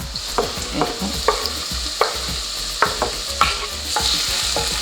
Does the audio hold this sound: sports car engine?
no